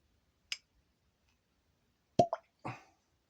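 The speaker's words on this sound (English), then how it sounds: "pause for the cork pop" A cork pulls from a Wild Turkey Kentucky Spirit bourbon bottle, a sharp close pop followed a moment later by a couple of quick squeaky knocks and a short rustle, otherwise quiet.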